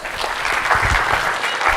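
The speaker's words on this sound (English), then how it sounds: "So give me a big round of applause." Applause from an audience at a medical conference session on Indian doctors and global healthcare, dense steady clapping filling the whole short stretch at moderate loudness.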